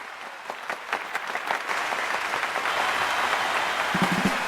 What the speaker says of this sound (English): Let's get a round of applause for Elijah K.